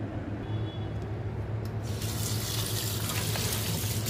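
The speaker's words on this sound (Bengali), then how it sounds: "চিংড়ি মাছটা ভালো করে ধুয়ে রেখে দিব" Tap water running steadily over prawns being washed in a home kitchen sink, a continuous close rushing splash that grows louder and brighter partway through.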